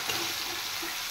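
Chopped onions fry in a pan with a steady, even hiss of sizzling oil, close and continuous throughout the short moment, with no talk.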